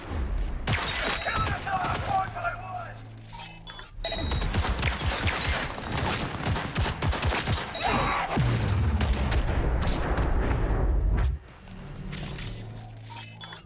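Rapid bursts of gunfire and sharp impact clatter fill a Cyberpunk 2077 firefight, with repeated loud volleys, mechanical clicks and short pauses between them.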